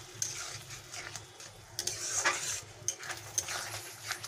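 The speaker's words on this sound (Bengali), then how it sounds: "এই সময় অনবরত মশলাটাকে নাড়তে হবে যাতে না লেগে যায়।" A spoon scrapes and clinks against a pan as masala for Bengali egg korma, loosened with a little water, is stirred constantly, giving a steady run of metallic taps and scrapes at close range.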